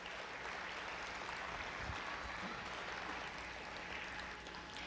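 Steady applause from an audience at a glass pageant, faint and sustained for several seconds with no talking over it.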